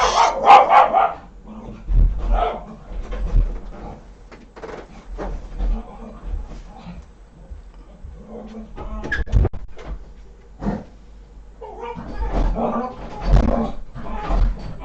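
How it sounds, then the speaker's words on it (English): A dog barks and yips in scattered bursts, some sharp and close, mixed with whimpers and thumps indoors. "my dog's going off on when he doesn't like people coming to the door"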